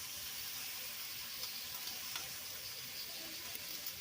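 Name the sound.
Heinz jar gravy poured into sizzling pan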